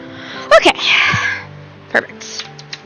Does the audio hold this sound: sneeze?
yes